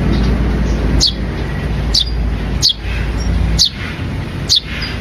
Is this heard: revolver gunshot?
no